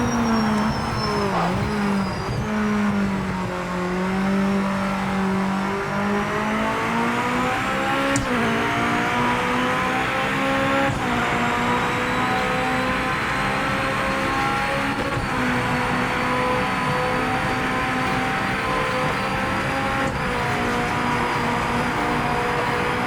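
A race car engine in Project Motor Racing screams at high revs for the whole stretch, its pitch climbing and dropping through gear changes in a loud, continuous drone.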